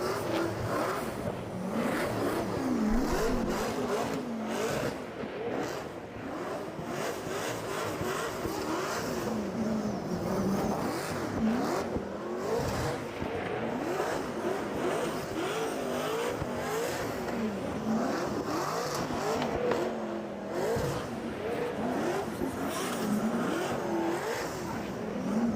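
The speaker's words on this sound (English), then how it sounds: "Mohammed Chiab fires into the final outside zone and across the line." Drift cars at a championship round on an F1 track at Yas Marina Circuit roar loudly and continuously, with revving engines, acceleration and tire squeal throughout.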